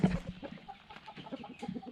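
Belgian Giant Liege fighter chickens clucking nearby, a run of soft, irregular clucks and low murmurs with a brief louder call near the start.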